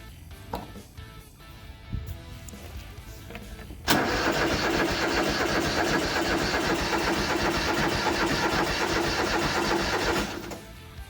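A lawn mower engine being tuned up is started with a key. A few faint clicks and a short crank come first, then the engine catches and runs loud and steady for about six seconds before dropping off.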